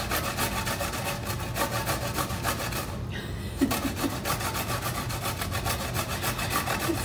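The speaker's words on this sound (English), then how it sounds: "The next thing we're gonna do is grate the carrot and the ginger." Carrot and ginger rubbed steadily against a hand grater, a fast, continuous rasping scrape with regular strokes, close and fairly loud, with a brief pause midway and no talking.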